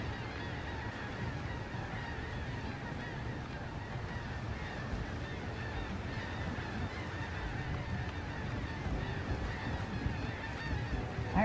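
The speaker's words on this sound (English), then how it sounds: "I heard a bunch of seagulls somewhere." Seagulls call faintly in the pirate video game Windrose, their honking cries scattered over a steady, low wash of sea and wind ambience, with no talking.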